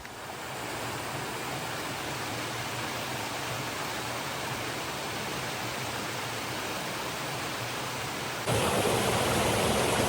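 Mountain stream water rushes steadily beside the Alum Cave Trail in the Smoky Mountains, a loud, continuous broadband roar close by that grows slightly louder near the end, with no talk.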